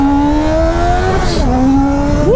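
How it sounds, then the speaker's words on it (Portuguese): A turbocharged Yamaha XJ6 motorcycle engine revs up close and loud on a road, its pitch climbing, dipping briefly as it shifts gear, then rising sharply again at the end. "Então bora dar uma aceleradinha."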